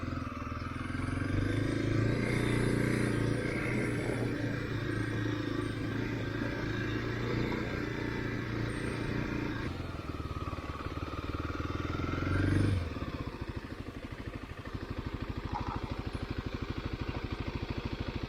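A Kawasaki KLX motorcycle engine idles while warming up, giving a steady, close, continuous rumble with an even tone throughout and no speech.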